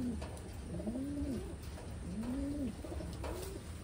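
Pigeons or doves being raised for release in Taiwan coo softly in a few rising, drawn-out calls over a steady background hum, with no one talking.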